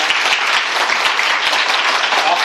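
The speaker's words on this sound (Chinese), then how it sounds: "所以我们最后再次热烈掌声感谢这三位朋友" An audience at a meeting applauds to thank three guests. The clapping is dense and steady and fills the whole moment at a loud, even level.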